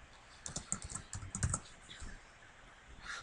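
JavaScript code typed on a computer keyboard: a quiet, close burst of quick keystrokes clustered in the first second and a half, then sparser taps trailing off.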